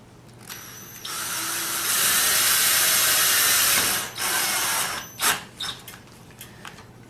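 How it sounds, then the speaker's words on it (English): A power drill drives a self-tapping screw while an outdoor TV antenna is mounted: one loud, sustained whirring run of about two seconds, then several short bursts as the screw seats. "This is a little bit bigger screw. And it's self-tapping."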